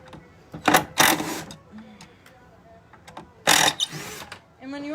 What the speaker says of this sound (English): when you are using the screw gun, you really got to get your weight behind it and push the screw